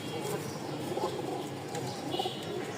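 A pair of sky-blue Rajgolla pigeons cooing softly at close range, low murmuring calls repeated a few times over faint background noise.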